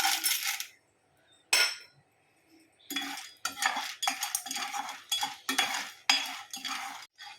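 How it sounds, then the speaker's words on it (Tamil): Corn kernels being stirred in a pan over low heat for masala popcorn, bursts of rattling, scraping metal and hard kernels sliding against the pan, separated by short silent gaps, close and fairly quiet. "குறைஞ்ச தீயில வச்சு மக்காச்சோளத்தை நல்லா கொஞ்சம் நேரம் கிண்டி விடுங்க."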